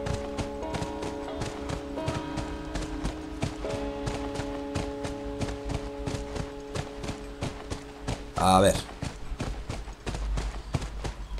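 Horse hooves clip-clopping in a steady, rapid rhythm as the horse is ridden in The Last of Us, with game music underneath and a brief louder burst near the end; a few quiet spoken words come in once.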